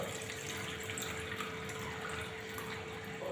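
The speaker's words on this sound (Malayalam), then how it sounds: "നമുക്ക് ആവശ്യമുള്ള വെള്ളം ഇതിലൊന്ന് ഒഴിച്ചു കൊടുക്കാം" Water pours steadily into a cleaning paste mixture for scrubbing a stained toilet and tiles, a constant close rushing stream with no break.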